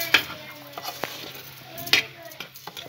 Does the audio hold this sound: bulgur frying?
yes